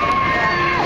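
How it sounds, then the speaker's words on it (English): Children screaming on a giant slide at a fair, a dense continuous mix of high shrill shrieks and crowd noise, loud and sustained for under a second. "they definitely sound like they're screaming"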